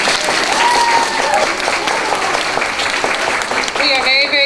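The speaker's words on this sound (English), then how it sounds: "Can we give Miss Jill a big round of applause?" Sustained, dense audience applause fills the air at a hospital's holiday tree-lighting event honoring a guest, loud and steady throughout, with brief high whistles or cheers rising near the end.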